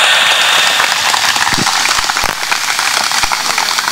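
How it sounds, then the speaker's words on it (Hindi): Broadband clapping from an outdoor rural audience at a village event, a dense sustained wash of applause lasting throughout, loud and close. "बहुत एक बार माता बहनों के लिए तालियां बजाओ"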